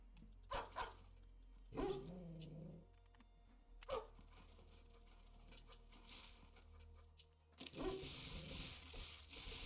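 Dogs in a video game bark in short bursts, several sharp yaps and barks spaced irregularly across the clip with quieter game sounds in between.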